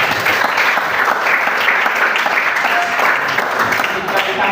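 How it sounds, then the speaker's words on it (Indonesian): A group claps for a team in a classroom coaching session, with steady, dense applause that is loud and close and lasts throughout. "Tepuk tangan dulu untuk kelompok 2"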